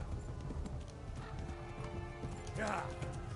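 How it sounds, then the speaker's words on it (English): Rhythmic hoofbeats of a galloping horse with a brief whinny near the end, in the game Kingdom Come, under a steady game soundtrack and some voices. "epic horse chase I rode."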